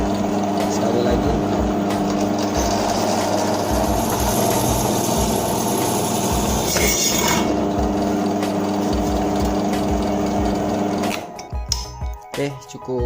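A RYU RBD 13 bench drill press drills into a hollow steel plate, giving a loud, steady motor hum and grinding bite for about eleven seconds before the machine quickly winds down and goes quiet.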